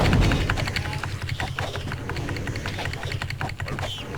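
A computer keyboard is mashed rapidly during a Might & Magic 8 game session, a steady dense patter of clicking keys running throughout at close range.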